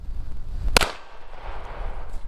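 A single sharp gunshot from a Sig Sauer P320 pistol cracks outdoors, loud and close, then fades into a short rolling echo over a low rumble of wind, with no talk.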